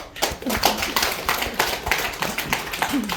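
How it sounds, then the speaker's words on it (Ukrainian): Brief applause at a Ersag sales gathering, a few seconds of dense, fairly close clapping with irregular bursts and a voice briefly audible. "Аплодисменти."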